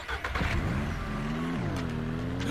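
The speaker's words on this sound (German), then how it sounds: "auf F musst du den Motor starten" A car engine in a video game turns over and catches, then revs through rising and falling tones before settling into a steady idle. The engine sounds close and is heard without any voices.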